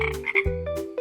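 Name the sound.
frog croaking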